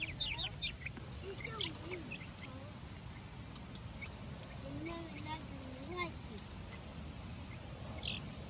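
Chickens and a rooster cluck and chirp in short, scattered calls over a low background rustle, with people talking nearby at times.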